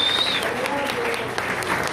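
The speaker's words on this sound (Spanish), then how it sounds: "Un aplauso para ella, por favor." Audience at a wrestling magazine launch event applauding a guest, a close, loud burst of crowd clapping with some murmuring voices and a faint whistle-like tone mixed in.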